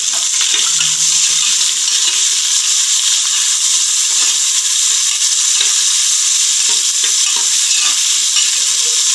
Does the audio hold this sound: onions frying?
yes